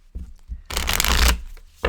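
A deck of cards is shuffled close up in a single loud riffle that rushes and rattles for about half a second. Softer card handling comes before and after it, and a brief flick closes the shuffle.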